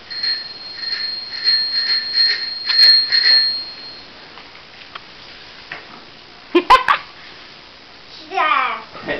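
A small bell on a child's new bike helmet, a Christmas morning present, rings in a quick series of bright, close metallic dings for about four seconds, then stops; brief voices, including a child's, follow near the end.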